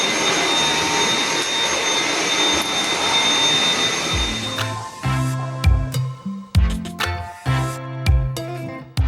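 A Dyson V7 Motorhead cordless vacuum works across medium pile hallway carpet. A loud, steady motor whine fills the first half, then gives way to intermittent bumps and clattering thuds, with no voices.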